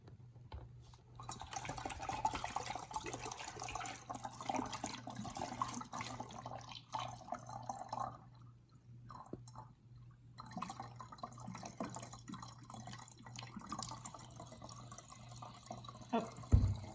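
Water pours steadily into a container being filled to a 20-centimetre mark during a science club activity, a continuous splashing and trickling with a low hum underneath.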